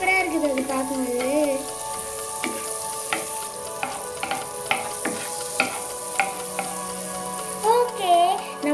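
Butter melting in a hot pan, giving a soft steady sizzle with scattered crackles and pops, close by, while faint gliding musical tones play in the background.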